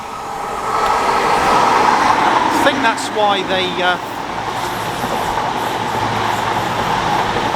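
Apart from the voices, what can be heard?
train passing through Filton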